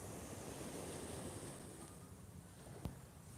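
Sea waves wash steadily onto Jomtien beach in Thailand, a continuous broad surf rush with some wind buffeting the microphone and one brief sharp knock near the end.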